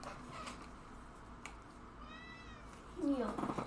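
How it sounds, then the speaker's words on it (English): A house cat meows insistently, a faint call early on, a drawn-out rising meow in the middle and a louder yowling cry at the end, heard over a quiet room with faint talk. "My cat is wanting to get strangled right now. He's just sitting here yelling at me."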